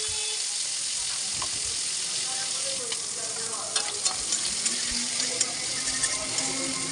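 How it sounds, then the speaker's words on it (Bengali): Prawns frying crisp in a pan give off a steady, loud, close sizzle with faint crackles and spits throughout, and no talking. "চিংড়ি মাছটা সুন্দর করে কড়া কড়া করে ভেজে নেব।"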